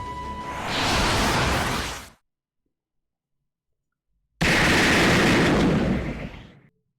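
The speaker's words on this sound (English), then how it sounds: "A gunshot? No, it's cannon fire." Two heavy bursts of cannon fire in the video game Fate/Grand Order, each a loud, roaring blast lasting about two seconds and separated by a few seconds of silence.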